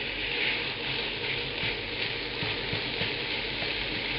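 Shallots and meat fry in a pan while being broken up for a Balinese spice paste curry, a steady muffled sizzle with faint scraping and clicks underneath.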